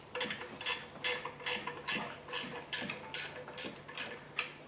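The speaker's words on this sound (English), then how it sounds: "I don't know if I can get a ratchet and wrench in there" Ratchet wrench turning a bolt on a 2008 Hyundai Elantra 2.0 engine during timing belt work, about ten close, evenly spaced bursts of rapid clicking.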